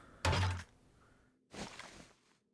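Reloading a held turret in the game 7 Days to Die: two mechanical clunks, a heavy thunk followed about a second later by a softer sliding clack, close and isolated.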